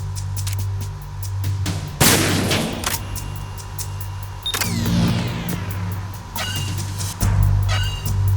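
USP pistol shots in Metal Gear Solid 2 on the tanker ring out as a few sharp, loud reports spaced seconds apart, each trailing into mechanical clatter over a steady low ambient hum.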